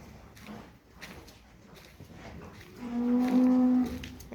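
A mother cow standing with her calf lets out a loud, close moo that swells to a long drawn-out call near the end, with quieter farmyard shuffling before it and no talk.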